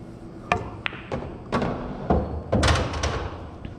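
On a pool table in an 8-ball runout, a cue ball strikes an object ball on a stop shot with slight draw, a few sharp knocks and thuds spread out among quieter room sounds.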